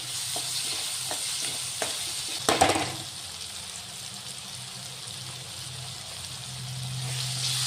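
Sugar stirred into a hot, sizzling tempering for poha, with a steady fry hiss throughout and a brief louder burst of spoon scraping and stirring near the middle.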